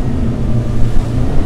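Strong wind roars at sea around a fast-moving racing sailboat in the Vendée Globe, a steady, loud rush of air and water with no voices.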